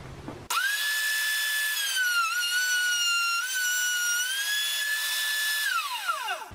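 A wood router cutting end grain on a wooden workpiece: a loud, sustained high-pitched motor whine starts abruptly, holds steady with slight dips under load, then winds down at the end.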